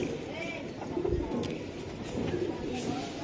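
Giribaz pigeons of the Palla line cooing softly in a loft, low repeated coos close by amid faint background noise and a voice.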